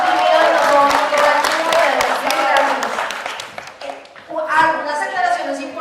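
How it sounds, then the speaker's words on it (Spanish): Audience applause at a territorial legal-defence meeting in Cali, Colombia, heard as a patter of clapping hands from a crowd, rising then fading, while a voice keeps talking over it. "un aplauso por favor"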